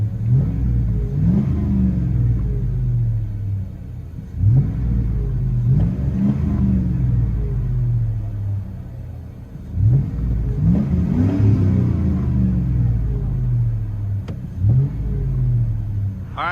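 Inside the cab of a 2000 GMC Sierra with a 5.3L V8 and Flowmaster Flow FX dual exhaust, the engine rumbles and revs repeatedly, a deep droning exhaust note rising and falling with each acceleration.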